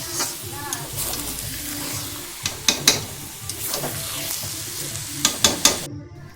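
Mutton sizzling in a pan while being stirred, a steady frying hiss broken by several sharp scraping clinks of the spoon against the pan, close and fairly loud.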